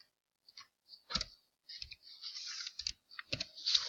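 A computer mouse clicks at close range, several sharp separate clicks spread unevenly over a few seconds against a faint background hiss, with no talking.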